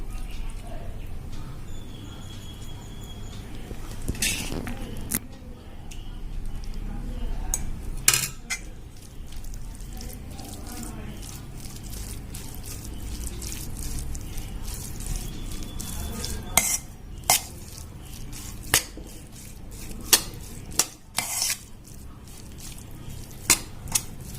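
A spoon works tomato gravy into white rice for tomato rice, giving soft squishy stirring with sharp clinks of metal on a plate or vessel scattered throughout, close and steady with no talking.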